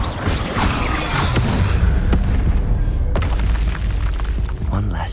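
Confringo explosive spell blasts in the Hogwarts Legacy video game, a chain of loud booms and sharp cracks over dense, continuous battle noise, with sudden transients around the middle and end of the passage.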